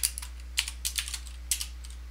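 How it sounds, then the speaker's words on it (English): Keys clatter on a computer keyboard in short, irregular bursts of taps, close and moderately loud, over a steady low hum with no talking. "I'm going to go ahead and type a quick little expression"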